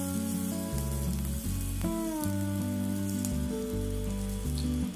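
Onions and other ingredients sautéing in a pan for a butter chicken gravy, a steady close sizzle under loud continuous background music.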